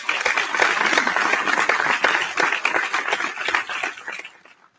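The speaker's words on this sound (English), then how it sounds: "Please give a round of applause for our fifth grade boys." Audience at a school athletic awards ceremony applauds fifth grade boys, a steady wash of clapping that holds for several seconds before tapering off to quiet.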